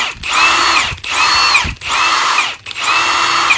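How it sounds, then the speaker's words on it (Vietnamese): A Milwaukee M18 2767-20 brushless 1/2-inch impact wrench runs loud and close in four bursts of high, steady whine, each separated by a brief pause. "cái máy mẫu này có 4 cấp độ điều chỉnh lực để mình bắn ốc nha các anh"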